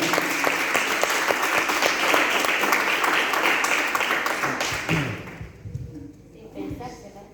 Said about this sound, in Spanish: Te doy un fuerte aplauso, Señor.